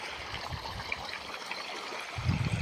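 Irrigation water flows from a pump motor across a wheat field in a steady, close trickle, swelling into a louder, heavier gush with a low rumble near the end.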